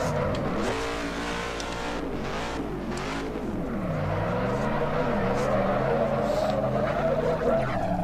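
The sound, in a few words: Dodge Charger engine and tire skid in video game Assetto Corsa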